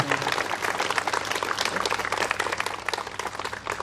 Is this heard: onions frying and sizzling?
no